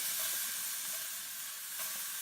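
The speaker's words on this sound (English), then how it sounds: "There's the sizzle" Loud, continuous sizzling from food frying in a hot pan, a bright steady hiss close by, with no voices.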